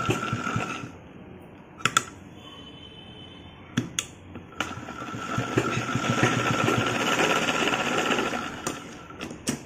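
A sewing machine stitches a skirt joint on a baby frock in bursts of rapid, buzzing mechanical chatter, broken by brief pauses and sharp clicks, with a longer steady run near the end.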